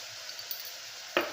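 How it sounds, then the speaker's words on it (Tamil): Cabbage, chillies and spices for a soya pulao sauté in a pan with a steady, even sizzle, ending in one sharp metallic clink of a utensil. "ஸோ இது எல்லாத்தையும் நல்லா வதக்கிட போகிறோம்."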